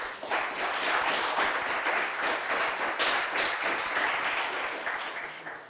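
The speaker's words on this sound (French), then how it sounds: "On les applaudit." Studio audience applause on a French TV quiz show, a dense steady wash of many hands clapping that fills the room for several seconds before tapering off at the end.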